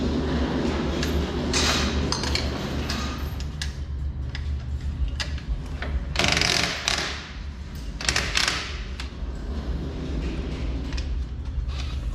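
Hand ratchet taking the lower bolts off a grey car, a steady run of close mechanical ticking and clicking with a few louder metallic clanks, no talk.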